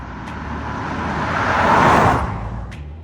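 A Subaru Forester e-Boxer hybrid SUV accelerating in sport mode, a steady engine and road roar that swells to a peak near the middle and then eases off, heard alone without talk.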